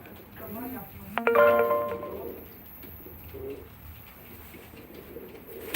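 Pigeons coo in soft, repeated low throaty calls at a live pigeon auction, with a brief bright chime-like tone in the middle and murmuring voices in the background.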